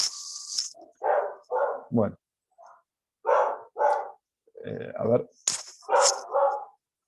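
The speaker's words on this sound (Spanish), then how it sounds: "Y esa es mi perro." A nearby dog barks in a string of short, loud woofs with brief gaps, interrupted once by a person speaking a couple of words.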